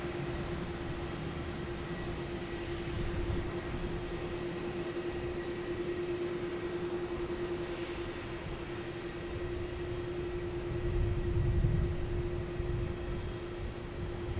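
An Aer Lingus airliner departing Boston Logan for Dublin gives a faint, distant jet engine drone with a steady tone, swelling slightly louder near the end, with no voices.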